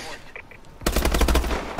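Automatic weapon fire in the video game Call of Duty Advanced Warfare, Reckoning DLC multiplayer match: after a quiet moment, a dense, loud burst of rapid shots rattles out, ending with one more sharp shot.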